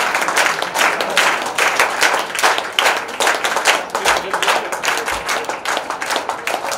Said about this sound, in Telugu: వారికి మనం ఇంకా చప్పట్లు కొట్టాలి